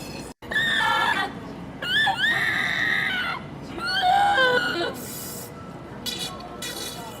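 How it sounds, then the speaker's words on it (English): A dental training robot screams loudly from a playing video, in repeated shrill, wavering wails with brief breaks, over a hiss of background noise. "I think this is for, like, dentists in training to get used to, like, somebody screaming at them."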